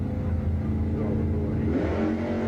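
Drag racing cars, a Ford Capri and a Holden Monaro, roar steadily down the strip at an ANDRA drag meet, a dense, loud engine drone with a rising pitch sweep near the end.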